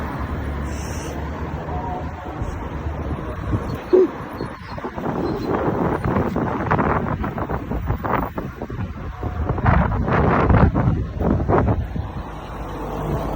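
Steady wind buffeting the microphone at night among tall buildings, rushing and gusting throughout, swelling louder near the end, with faint distant background noise.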